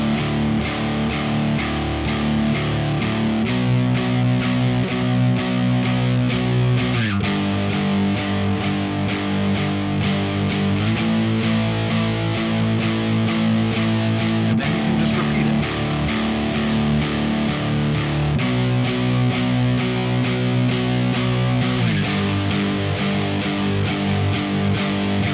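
A strummed guitar plays a simple chord progression, each chord struck eight times in a steady, even rhythm, with distortion, loud and with no voices.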